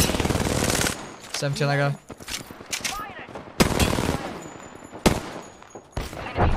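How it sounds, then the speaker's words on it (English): Video game gunfire from an opposing team, rapid automatic bursts in several separate volleys mixed with other game effects, with players talking over it. "I think the other team's shooting them now or something."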